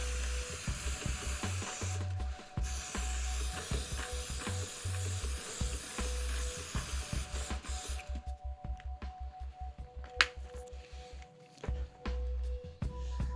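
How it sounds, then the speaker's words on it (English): An aerosol lubricant is sprayed onto the chain of a Triumph Trident 660 motorcycle in quick, repeated hissing bursts, followed by a quieter stretch with a few sharp clicks. "spray some of the lubricant onto the chain like so, and hit it from a few different angles"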